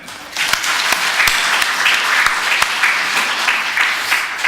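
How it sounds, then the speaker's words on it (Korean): A church congregation applauds together during a thirteenth-anniversary celebration service, a dense, steady wash of many hands clapping close and loud for several seconds, with a few sharper individual claps standing out. "그럼 축하하면 다 같이 하나님께 영광의 박수 한번 돌릴까요?"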